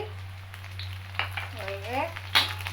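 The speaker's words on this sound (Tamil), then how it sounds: "எல்லாத்தையும் சேர்த்து நல்லா எண்ணெயில் வேக வைங்க." Onion, green chilli and curry leaves frying in hot oil give a steady low sizzle with a few brief crackles, close up, while a voice speaks briefly over it.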